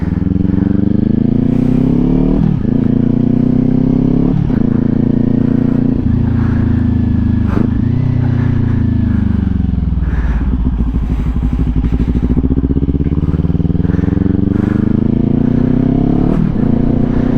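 A motorcycle rides along and leans into a corner, its engine droning loud and close throughout with pitch rising and falling as the throttle changes, plus rushing wind noise.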